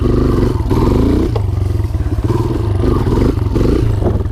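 Dirt bike engine dropping back down from a wheelie, a loud, close, steady throbbing drone with rhythmic pulsing and slight shifts in pitch as the front end settles.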